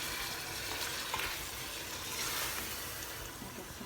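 Soft steady sizzling of food cooking in a pan, a quiet continuous crackle with no talking.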